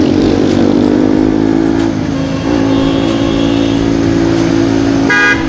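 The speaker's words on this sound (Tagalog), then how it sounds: "Palakasa lang naman ang busina eh." Car horn honking during a group motorcycle ride, with engines droning loudly throughout and a steady horn tone held for several seconds, then brief toots near the end.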